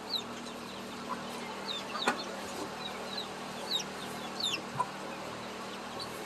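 Chickens in a barn housing rabbit and poultry cages, scattered soft clucks and calls over a steady background hum, fairly quiet and at a moderate distance.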